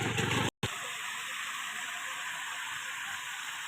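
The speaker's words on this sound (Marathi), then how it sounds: "बघा कसा एक रस्त्यामध्ये छोटासा धबधबा आहे त्या धबधब्याचा आवाजसुद्धा" Water from a small waterfall pours over a flooded road in a steady, broadband rushing gush, heard at moderate loudness with a brief dropout near the start.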